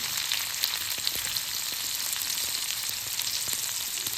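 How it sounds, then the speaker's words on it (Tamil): Onions hit hot oil with mustard seeds in a kadai, giving a loud, steady sizzle and crackle throughout with a few faint pops and no voices. "அடுப்பில் கடாயை வச்சு எண்ணெய் ஊற்றி கடுகு போட்டாச்சு. வெங்காயம்,"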